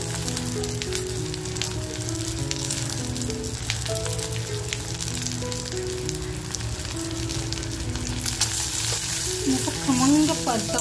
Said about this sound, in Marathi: खोबरं आपलं भाजलं जात आहे, म्हणजे परतलं जात आहे, तोपर्यंतच लसूण टाकायची आहे